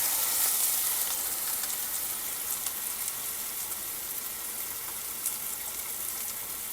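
Pork sears in a hot pan for pulled pork, giving a steady, dense sizzle and hiss that holds close and even throughout, with no voices over it.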